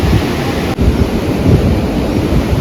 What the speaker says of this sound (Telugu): వాటర్ ఫ్లోట్ని చూడండి ఎలా ఉందో, చాలా బాగుంది కదా